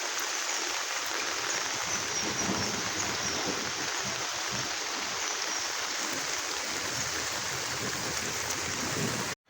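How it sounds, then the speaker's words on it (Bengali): Floodwater runs in a strong current across a road after heavy rain, a steady broadband rushing wash that stays even and fairly close throughout, with no voices. "ওই দেখেন পানির স্রোত যাচ্ছে রাস্তার মধ্যে।"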